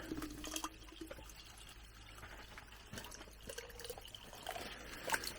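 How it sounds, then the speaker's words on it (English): A LifeStraw water bottle dipped into a lake on cold winter ice fills with water, a continuous gurgling, trickling pour that is close and steady throughout, without talking. "So I just fill this up and we're just drinking lake water."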